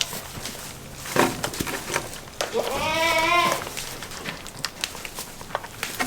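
On a farm crowded with newborn baby goats, a single wavering goat bleat rises mid-clip, moderately close, amid soft rustling and shuffling noises.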